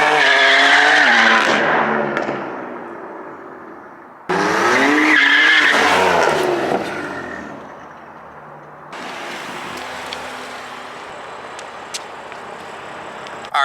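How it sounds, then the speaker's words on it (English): A BMW F82 M4 fitted with an aftermarket exhaust roars past on a narrow back road in loud drive-bys, with engine notes rising and falling and tire squeal as the car accelerates, fades, then returns. "I'm gonna try getting some drive-bys through this little back way"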